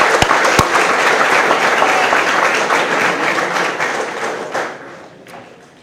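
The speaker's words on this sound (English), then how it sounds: "give these guys a round of applause" A high school crowd at a football National Signing Day ceremony gives a loud round of applause. Dense clapping with a few sharp individual claps rings out strongly, then thins and fades away toward the end.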